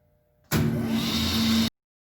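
A table saw set up with a rip fence and featherboard switches on abruptly and runs with a loud, steady whining roar for just over a second before cutting out.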